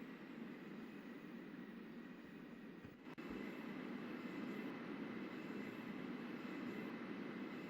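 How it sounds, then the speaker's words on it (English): A Shinkansen N700S bullet train runs in the railway simulator Trainz, giving a continuous broad rushing hum with one brief dip and a soft thump partway through. "the train is really, really not that loud"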